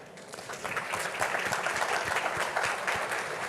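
An audience applauds at a tech conference keynote, a dense wash of many hands clapping steadily, moderately loud and sustained for several seconds with no speech over it.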